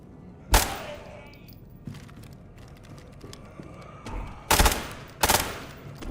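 Gunfire from shooting zombies in the SCP 5k video game: a sharp shot early, then two loud close bursts near the end, with quieter game ambience between.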